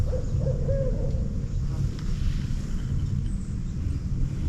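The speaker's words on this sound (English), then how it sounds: "One of my favorite sounds is an owl in the woods." An owl hoots in the woods beside the Silver River, a soft repeated call over a steady low rumble of wind and water noise, fairly faint and distant throughout.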